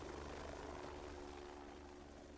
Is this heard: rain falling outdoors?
no